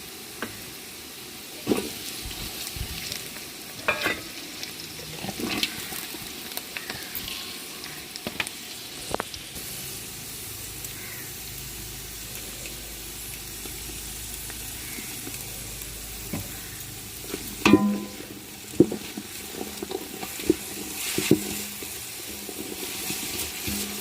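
Chopped onion and carrot stir-fry in hot oil with browned garlic in a pan. The sizzle is steady, broken by repeated scraping and stirring knocks and a few splashy bursts, with no speech.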